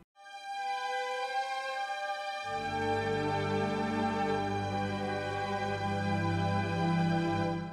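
A Vienna Smart Orchestra pad with normal sustain plays a smooth, held orchestral chord; the high voices start first, then lower notes swell in and the chord sustains evenly at a steady, full level.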